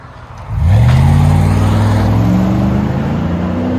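A 2008 Jeep Grand Cherokee with a 5.7L HEMI V8 and Flowmaster 50 Series exhaust fires up into a loud, steady, deep rumble that holds alone and close for several seconds.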